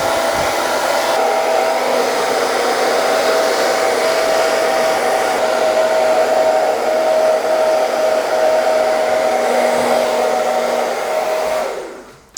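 A handheld hair dryer running steadily on high heat and medium speed while drying hair, a loud, continuous whooshing whine with a constant tone, switched off abruptly at the end; no talk.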